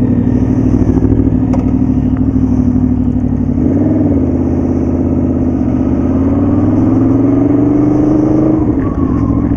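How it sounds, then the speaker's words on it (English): Two sport motorcycles, an Aprilia Tuono V4 APRC and a Triumph Speed Triple 1050, riding along a road with a steady loud engine drone that rises and falls as the throttle changes, close and continuous throughout. "Now we're back on our own bikes and just see how we feel."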